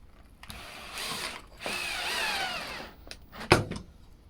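Power drill briefly whirring as it drives small screws into the 18mm side rail of a hospital bed, a few short bursts of spinning and a sharp click near the end, with no talk.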